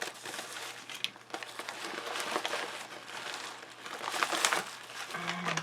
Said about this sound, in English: Let's go ahead and look at the bag here. I'm going to go ahead and open it.